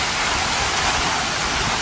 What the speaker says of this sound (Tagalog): Grabe na lakas ng ulan.